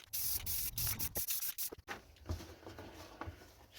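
Rust-Oleum Satin Clear coat sprayed from an aerosol can onto a homemade Friday the 13th Part 7 costume piece, a run of short close hissing bursts with brief gaps, then softer rubbing and handling noises, no talk.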